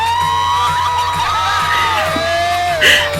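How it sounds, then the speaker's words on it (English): A crowd at a dance battle cheers and whoops loudly and continuously, with rising yells and shouts layered over a constant roar and a sharp burst near the end. "Making the crowd go crazy"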